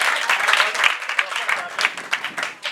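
A church congregation applauding during a service, dense steady clapping from many hands at moderate distance, filling the whole stretch without pause.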